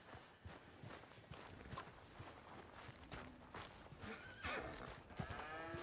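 Horse in a stable stall in Red Dead Redemption 2, shuffling hooves and thumps with occasional snorts and whinny-like sounds, fairly close and steady, with no talking.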